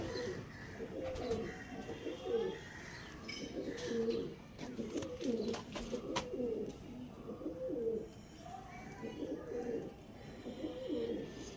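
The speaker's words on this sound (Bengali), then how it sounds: "এটা নর পায়রা" Pigeons coo repeatedly in a loft where a male bird is among them, their low throaty coos rolling in steady bursts close by, with faint chirps and rustling around them.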